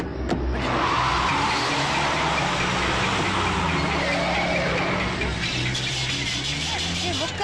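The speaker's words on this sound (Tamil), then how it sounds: "அந்த வண்டி கிளம்பிடுச்சு" A vehicle pulling away in a film scene, with a loud, continuous engine roar and road rumble that shifts in pitch as it moves off, while people talk over it.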